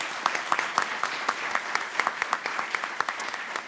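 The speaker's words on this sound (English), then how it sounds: "Let's give our student panel a round of applause," Applause for a student panel at an educational leadership session on Latino education: steady, fairly loud clapping from a room of listeners, dense and continuous with sharp individual claps standing out.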